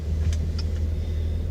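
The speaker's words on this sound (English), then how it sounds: "This is a 2018 Volvo S90 test drive." Steady low engine and road rumble inside a 2018 Volvo S90 sedan on a test drive, a short continuous drone with a few faint clicks and no speech.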